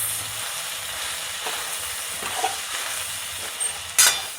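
A spice mixture with black pepper powder, cumin powder and red chilli powder is stirred in a pan over a steady background sizzle, with a few scraping strokes and a sharper clatter near the end.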